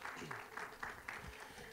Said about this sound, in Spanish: Otro aplauso fuerte.